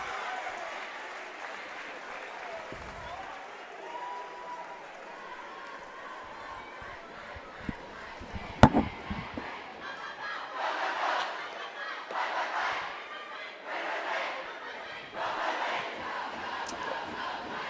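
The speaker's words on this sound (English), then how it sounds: "You're hearing the crowd in the background." A high school varsity basketball crowd roars and claps through a timeout, with a sharp whistle-like burst midway and swelling waves of cheering toward the end, heard under an announcer's talk.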